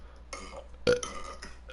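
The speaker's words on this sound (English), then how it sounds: "How do you burp that much, bro?" A loud, long burp rises in the middle of a casual gaming session, with several shorter belching bursts before and after it, close to the mic.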